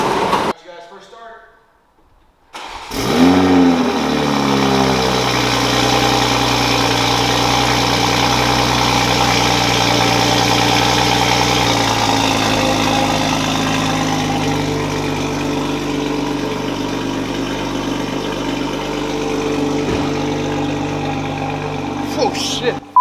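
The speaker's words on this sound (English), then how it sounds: "Let's go ahead and get it a cold start and do some revs for you guys." A Toyota A90 Supra with a catless downpipe cold-starts in an enclosed garage, a brief crank catching into a loud, steady idle that drone on for some twenty seconds, with faint talk in the background.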